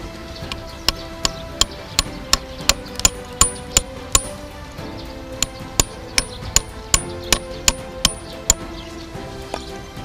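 An ordinary nail is hammered into a building block made from rice husk, sharp metallic strikes in a steady rhythm, about a dozen blows, a brief pause, then another run, close and loud.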